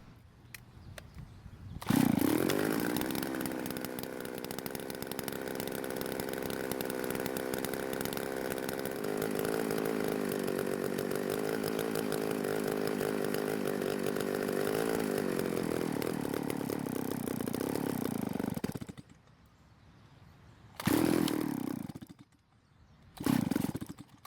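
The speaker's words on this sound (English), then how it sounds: "start the saw and let it run out of fuel" An old Stihl 024 AV chainsaw engine starts with a sharp burst and then idles steadily and loudly for a long stretch until it runs out of fuel and cuts out, and briefly revs twice more.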